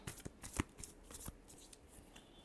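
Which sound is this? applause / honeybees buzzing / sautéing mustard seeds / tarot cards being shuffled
tarot cards being shuffled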